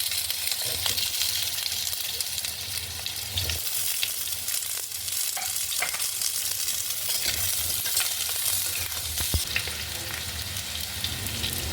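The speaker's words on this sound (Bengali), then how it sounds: "কড়াটা ভালো করে গরম হয়ে গেলে সর্ষের তেল দিয়ে আলুটা ভালো করে ভেজে নেব" Potatoes fry in mustard oil in a hot wok with a loud, steady sizzle throughout, close by, with occasional stirring clicks and scrapes and no talking.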